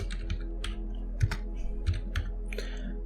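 Quick clicking keystrokes on a computer keyboard, a light irregular patter of taps over a low steady hum, close by and with no voices.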